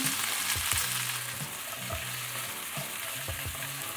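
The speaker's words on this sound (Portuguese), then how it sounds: "Eu vou fritar esse alho aqui, que é para sair a baba." Garlic and okra sizzling and frying in a pan for a chicken-with-okra dish, a steady hiss with occasional stirring scrapes, close up and no talking.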